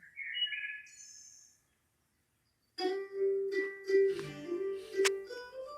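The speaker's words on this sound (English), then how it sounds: "that sweet, soft singing of the birds" Birds chirp and sing in short bright phrases, with a brief silent gap, then a livelier, layered burst of song nearby.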